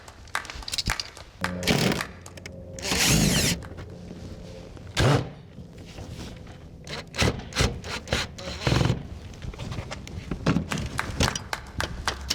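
A vent cover being pried off and pulled from its opening in a home, with scraping, rubbing and knocking bursts of varying loudness, close up, spread unevenly over several seconds.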